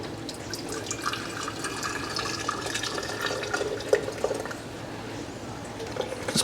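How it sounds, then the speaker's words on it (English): Hot turkey broth is poured into canning jars, a steady low trickle of liquid with small splashes running throughout at moderate distance, fairly quiet, with faint voice in the background. "This broth is really hot and these jars aren't real hot, so to avoid thermal shock, I'm just going to fill them a quarter of the way first."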